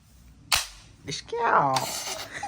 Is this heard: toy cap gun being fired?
yes